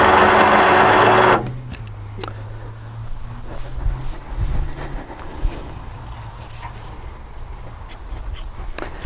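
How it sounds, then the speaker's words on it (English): Electric winch on a Ural motorcycle: a loud steady whirring drone that stops after about a second, followed by a lower motor hum with scattered clicks and knocks, close by with no talk. "So here's your Ural winch in operation."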